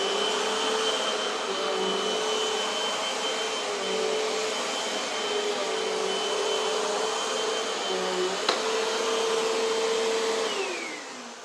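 Eureka Air Speed pet vacuum cleaner, model AS1008, running steadily at close range with a continuous whirring motor whine and airy rush, briefly dipping in pitch before winding down at the end.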